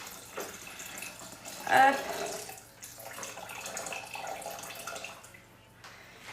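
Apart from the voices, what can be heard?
water poured into a Thermomix bowl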